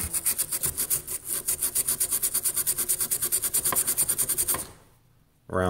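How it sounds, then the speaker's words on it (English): A Scotch-Brite pad scrubbing corrosion off a printed circuit board in fast, even back-and-forth strokes, a loud rhythmic rasping that stops abruptly near the end. "you want to take some Scotch-Brite, and sand down around"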